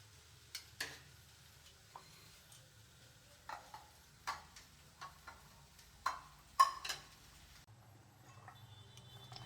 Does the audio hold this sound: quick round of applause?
no